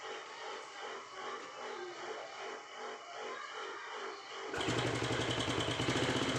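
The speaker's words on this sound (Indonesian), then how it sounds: "Nah, ini motor sudah menyala." Yamaha Jupiter motorcycle engine running after being repaired, idling with a rhythmic pulsing putter close by, then rising into a louder, harsher steady run near the end.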